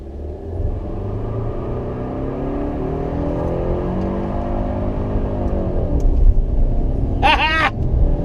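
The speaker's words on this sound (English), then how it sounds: "Now, what about burnouts?" A 2017 Infiniti Q50 2.0t rental car does a burnout, a loud, steady engine rumble with rising revs that holds close and continuous, ending in a brief squealing tire screech.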